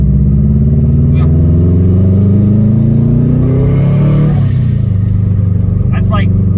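A Subaru Forester STI engine accelerates at partial throttle while driving, its loud, close drone climbing steadily in pitch, with a brief dip midway before it rises again.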